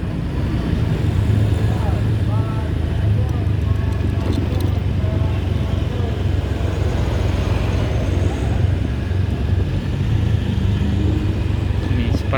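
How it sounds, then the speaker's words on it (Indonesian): Loud, continuous road traffic noise heading toward central Padang, Indonesia, a broad engine and tire roar close by, with a voice talking over it. "Seperti ini untuk keadaan lalu lintas yang arah ke pusat kota Padang ini"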